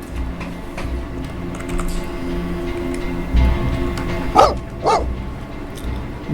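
Two short dog barks from a dog in the video game Fallout London, set in a ruined London, ring out clearly over a steady low game hum with no talking.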